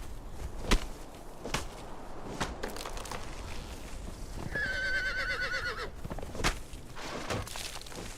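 A horse in the game Conan Exiles gives a clear, high whinny in the middle of the sequence, over scattered clip-clop hoofbeats and soft game ambience.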